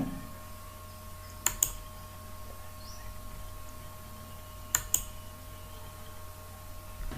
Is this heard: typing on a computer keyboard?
yes